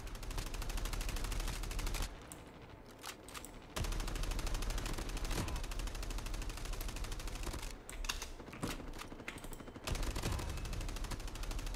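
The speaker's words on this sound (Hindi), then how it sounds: "यहाँ पर ज़बरदस्त गोलीबारी चल रही है" Rapid gunfire in the Call of Duty Mobile video game, dense, sustained automatic bursts with brief pauses between volleys, loud and close.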